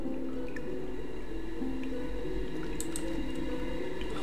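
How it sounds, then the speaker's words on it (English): Water fills a chamber in the Obduction video game, a steady rushing wash with scattered small drips and squishy splashes on top, loud and continuous with no talking. "So it filled up with water"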